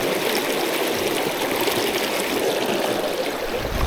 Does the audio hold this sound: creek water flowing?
yes